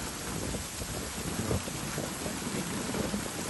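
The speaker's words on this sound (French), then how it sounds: "Il pleut. Et en plus il pleut comme il faut." Heavy rain pours down during a thunderstorm around a camper van parked by a roadside fishing spot, a steady, dense hiss of drops with no pauses.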